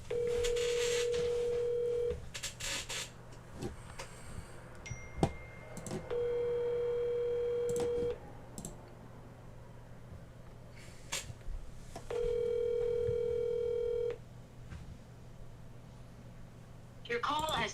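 An outgoing phone call rings three times, steady two-second tones spaced evenly apart, ahead of a voicemail pickup, with faint background noise between the rings.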